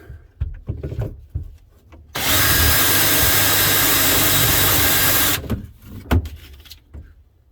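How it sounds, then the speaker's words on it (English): A power drill bores into an RV grey tank and is wobbled to widen the hole. It gives a loud, steady whine for about three seconds, with handling knocks and thumps before and after. "All we did was wobble the drill bit a little bit to see if it opens up."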